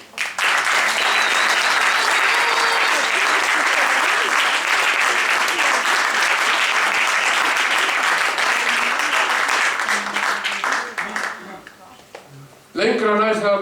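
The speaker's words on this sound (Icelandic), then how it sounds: "ég vil biðja ykkur sem hér eruð að gefa honum gott klapp" A hall audience at a cultural award presentation applauds a recipient, loud sustained clapping from many hands that fades toward the end before a voice briefly starts speaking.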